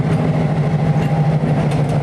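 Pickering Lumber train Number 101 running west as a caboose hop near Gurney, a steady close rumble with a strong low engine drone and continuous rolling noise, no talk.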